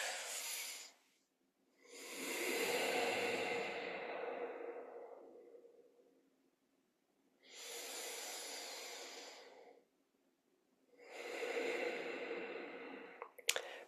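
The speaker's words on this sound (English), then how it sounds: "so just take 2 deep breaths" Several slow, deep breaths are taken in unison during a mindful breathing exercise: long, soft inhales and exhales with quiet pauses between them, close and gentle, with no talking.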